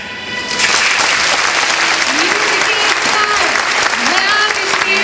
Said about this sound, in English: if you put your hands together, you'll bring the music back